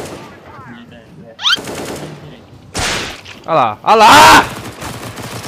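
Automatic weapon bursts ring out in a CS:GO match, loud sharp volleys rising over an excited player talking and shouting.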